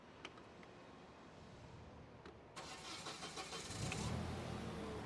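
A Hyster S60FT 6,000 lb propane forklift engine cranks briefly and catches, then settles into a steady, smooth running drone, heard fairly close with no talking.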